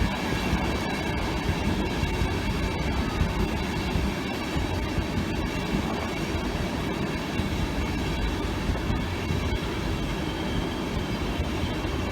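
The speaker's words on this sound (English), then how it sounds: "Coming in the 1425 East Coast service to London King's Cross" An East Coast passenger train to London King's Cross pulls into Doncaster station, its steady rolling rumble and wheel clatter continuous and fairly loud throughout, with no voices.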